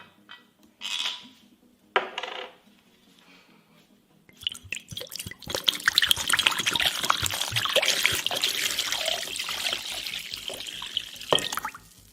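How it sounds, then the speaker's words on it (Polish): Jura whisky trickles and splashes into a glass dish holding a calculator, preceded by a few clinks of glass, then a steady pour that ends with a final clink. "i wleję ekskluzywnej whisky marki Jura."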